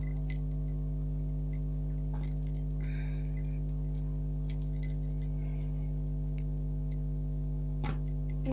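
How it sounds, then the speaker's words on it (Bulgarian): Keys being tied onto a homemade keychain give faint, scattered metallic clinks and light jingles over a steady low electrical hum. "Взимате си ключовете и го завръзвате за тях."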